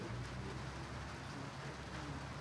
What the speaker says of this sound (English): It's as if Oliver did a wee rain dance earlier on